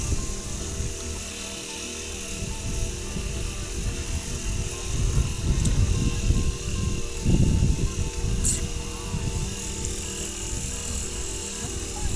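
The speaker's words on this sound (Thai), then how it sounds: "ไอ้เครื่องตัดหญ้า เป็นเครื่องดูดน้ำนะครับ" A small grass cutter engine running a water pump drones steadily throughout, with a rough buzzing tone that swells slightly in the middle; no voices, just continuous motor noise nearby.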